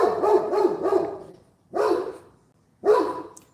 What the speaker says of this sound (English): That dumbass Doug, he fucking barking.